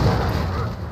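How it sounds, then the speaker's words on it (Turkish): Barrels blow up during a Call of Duty: Modern Warfare 3 Special Ops match on the Outpost map, a short, loud, booming burst that fades quickly. "Yanımdaki variller patladı."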